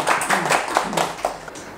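A small lecture audience claps briefly, in close, evenly pulsing bursts that fade within a couple of seconds.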